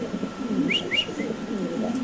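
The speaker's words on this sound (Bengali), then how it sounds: "দর্শক এখানে আছে এক পিস শৌখিন কবুতর" A female fancy pigeon coos softly in low, rolling tones, with a couple of brief higher chirps in the middle, close by and steady.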